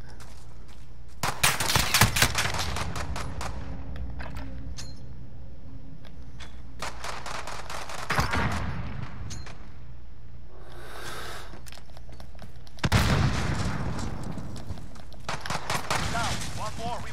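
Gunfire in a competitive shooter match, with bursts of shots near the start, around eight seconds and again at thirteen seconds, among other game sounds, with players talking over it.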